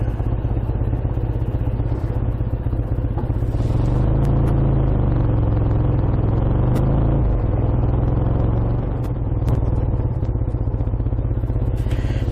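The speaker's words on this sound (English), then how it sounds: "The one insists that I make a noise with the bike, so I did." A motorcycle engine revs hard and close while stopped beside children crossing a road in Bude, Cornwall, a heavy sustained rumble that swells and falls a few times.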